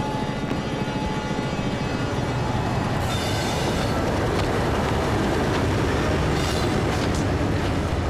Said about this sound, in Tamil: ரயில் கிளம்பிருச்சு